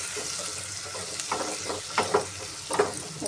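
Turmeric is stirred into sizzling masala in a pan for Telangana-style chicken curry, a soft steady frying hiss broken by several scraping stir strokes, close up and without talk.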